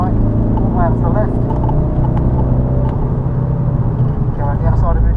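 Race car accelerating around Snetterton circuit, its engine droning loud and continuous from inside the cockpit, with an instructor talking over it throughout.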